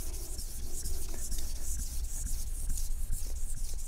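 A Japanese kitchen knife is drawn back and forth across a whetstone in quick, steady gritty strokes, close and fairly quiet, repeating for several seconds.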